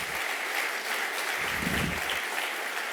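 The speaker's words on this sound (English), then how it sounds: "Please give them a round of applause as we welcome them." An audience applauds steadily in a dense, continuous wash of clapping to welcome teacher trainees at an education ceremony.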